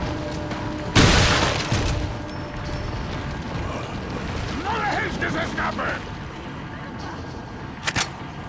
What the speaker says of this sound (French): on va utiliser le fusil à pompe